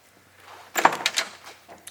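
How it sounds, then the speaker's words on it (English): Passenger door of a 1970 Chevrolet El Camino opening and closing, heard as a quick cluster of close metallic latch clicks and a solid thunk, brief and alone. "Passenger side door opens and closes with ease, just like the driver's side does."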